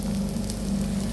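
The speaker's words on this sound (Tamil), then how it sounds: "பணியார சட்டியில் பணியாரம் ஊற்றிட்டேன் பாருங்கள்" Paniyaram batter sizzling in a paniyaram pan, a steady, dense crackle and hiss that runs evenly throughout with no voices over it.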